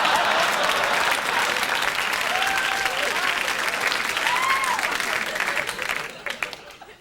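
A studio audience breaks into loud sustained applause at a comedy show, a dense wash of clapping with a few whoops mixed in, holding steady before fading away at the end.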